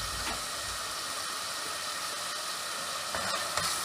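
Minced meat frying in a pan for aloo keema gives a steady, even hiss and sizzle throughout, moderately loud and close, with no one speaking.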